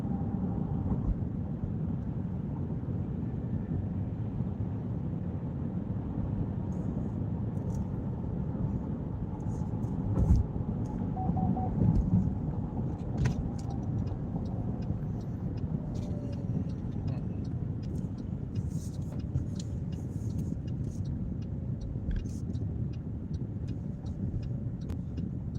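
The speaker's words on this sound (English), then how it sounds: "That's not us. That's the freeway." Freeway traffic in Texas, a steady low road roar heard from inside a moving car, with passing vehicles swelling slightly midway; people talk now and then over it.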